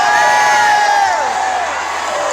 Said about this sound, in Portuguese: dá um grito mais alto aí